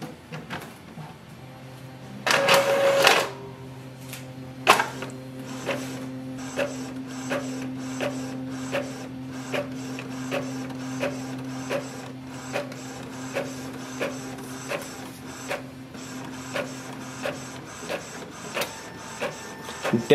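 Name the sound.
Epson ET 2400 printer printing a copy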